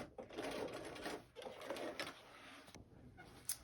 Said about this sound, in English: Stopping at that seam and back stitching.